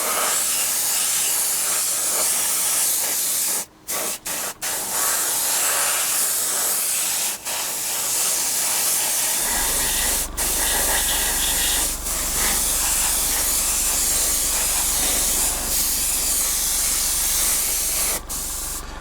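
An airbrush sprays a misty coat of paint onto a 1/48 scale Tamiya Supermarine Spitfire Mk.I model, a close steady hiss broken by a few short pauses, with a low hum joining midway.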